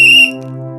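A whistle blown once, a strong steady shrill tone lasting about a quarter second before dropping away, with a faint sustained hum continuing underneath.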